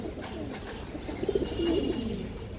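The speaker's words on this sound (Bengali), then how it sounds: "এটা আমার একটা উড়ানো কবুতর, কবুতরটা প্রচুর ভালো ফ্লাই করে" A pet high-flying pigeon gives a short series of close, soft throaty coos in the middle, against a low background hum with faint movement.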